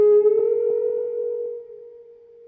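A cheap bright red Martinez lap steel guitar played with a D-size battery as a slide, sounding a single sustained note that wavers slightly, rings out alone for about two seconds, then slowly fades.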